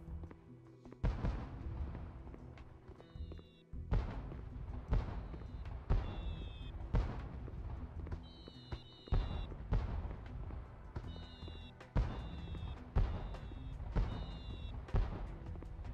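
Firework-like explosions in the PS2 video game Mission: Impossible - Operation Surma, a series of sharp booming bursts at irregular intervals, with whistling tones and game ambience between them.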